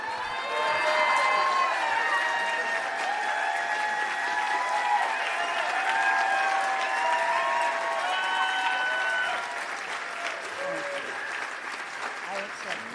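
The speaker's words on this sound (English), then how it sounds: "Don't stop applauding" A large rally crowd applauds and cheers continuously, a dense wash of clapping with whoops and shouts rising over it. The noise eases slightly toward the end while a voice speaks over it.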